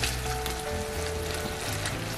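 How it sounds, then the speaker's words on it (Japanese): Garlic and bacon sizzle steadily in a frying pan for a broccoli peperoncino pasta, a close, even crackling fry with faint low hum beneath and no talking. "ニンニクが薄く色づき、ベーコンがカリッとなるまでじっくり炒めていきます。"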